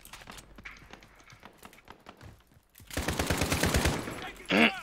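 Rapid automatic gunfire rattles in the Warzone battle royale game, sparse shots giving way to a loud sustained burst near the end, with voices talking underneath.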